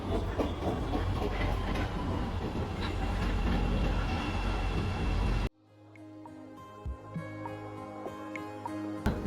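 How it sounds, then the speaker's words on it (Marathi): Chicago Red Line train riding with a steady rumble and rail clatter, cutting sharply to a quieter interior hum with faint clicks for the last few seconds. "आम्ही आता रेड लाईनने चाललेलो आहोत."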